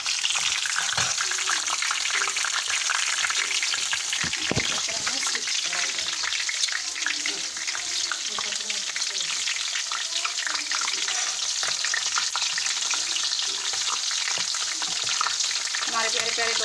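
Green chillies go into frying masoor dal, and a loud, continuous sizzle and crackle of hot oil fills the whole stretch close up, with faint stirring scrapes.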